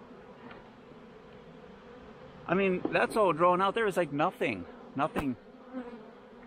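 Honey bees buzz in a steady, low drone at a hive fitted with a honey super set between two deep boxes, continuing beneath a man's close, clear talk.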